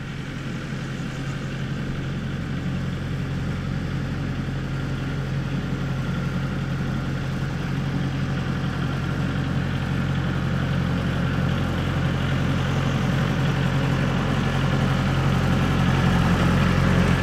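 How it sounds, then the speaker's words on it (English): A tractor engine idles nearby with a steady low rumble and drone that holds constant for the whole stretch, growing slightly louder toward the end, with no voices. "And Mama's coming with the tractor."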